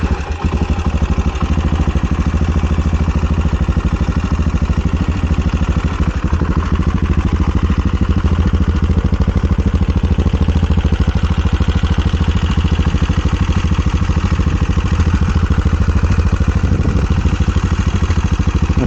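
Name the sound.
SWM Superdual X motorcycle engine idling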